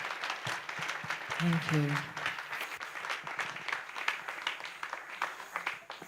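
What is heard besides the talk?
audience applause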